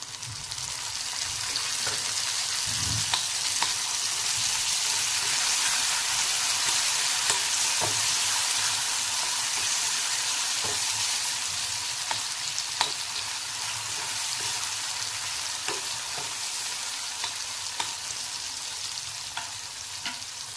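Tomatoes frying in a pan for batata bhurji, a steady loud sizzle running the whole time with scattered scrapes and knocks of a spoon stirring, no voices.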